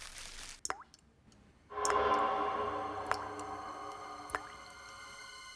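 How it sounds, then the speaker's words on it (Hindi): Faint, isolated drips plop a few times, spaced irregularly over a low indoor hum that grows slightly louder after the first couple of seconds. "शायद कुछ टपकने की आवाज आ रही है।"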